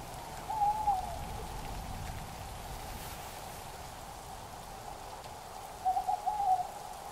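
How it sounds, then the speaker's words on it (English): Steady rain falling outdoors in the Flat Tops Wilderness of Colorado on a horseback trip, a soft even patter throughout, with a faint hooting bird call twice in the background. "raining outside. The horse is all wet."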